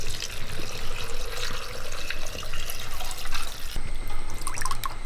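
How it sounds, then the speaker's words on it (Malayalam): Water splashes and gurgles as it is poured into a pot of Kerala-style sambar containing roasted coconut, chilli, onion and coriander. The pouring is continuous and close, with no talking. "വെള്ളം ഒഴിക്കാം"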